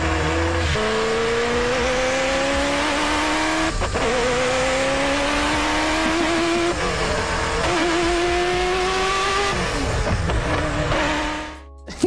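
A Ferrari F40 is driven hard around a race track, its engine roaring loud and close as it climbs through the revs in repeated rising pulls, briefly easing between gear changes before the sound cuts off.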